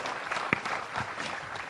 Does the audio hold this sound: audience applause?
yes